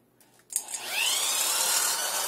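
A power drill fitted with a hole saw whirs up to speed after a few clicks and handling noises, then holds a steady high-pitched grinding whine, close and loud.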